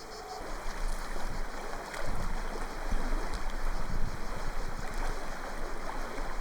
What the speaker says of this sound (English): there's this wonderful little river here